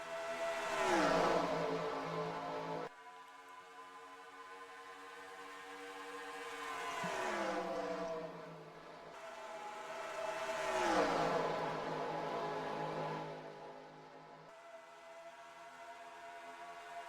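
Stock cars race around Homestead-Miami Speedway in the NR2003 racing game, their engines droning in layered harmonics that swell and fade as cars sweep past in repeated waves, with no voices.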